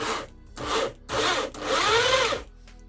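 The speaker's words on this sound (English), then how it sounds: "give it a sanding" Rhythmic back-and-forth sandpaper strokes on a metal ring made from a hex nut, four scraping bursts separated by short gaps, close and fairly loud, with no one talking.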